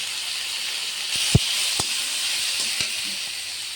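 Turmeric, cumin powder and coriander powder frying in oil for a fish curry with bottle gourd greens, giving a steady soft sizzle and hiss with a few light clicks of utensils against the pan.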